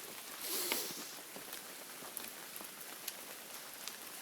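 Light rain of the first rains of the year pattering steadily on surfaces outdoors, soft continuous hiss with scattered distinct drops, a brief swell early on, no talking.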